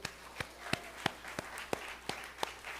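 In a church during a sermon, the congregation claps for God in a steady rhythm of about eight sharp, evenly spaced claps, fairly quiet against low room noise.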